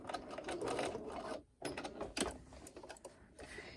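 Sewing machine stitching a fabric face mask with a filter pocket, a fast rattling run close by, a brief pause, then more stitching bursts, quiet overall.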